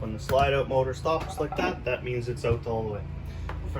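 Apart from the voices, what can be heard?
No everyday noises stand out.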